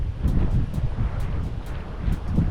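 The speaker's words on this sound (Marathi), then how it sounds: "तर अशा प्रकारे हा धबधबा आहे." Waterfall beside the Ghumai Devi temple in Satara, a steady broadband rush of falling water that fills the clip evenly with no pauses and no voices.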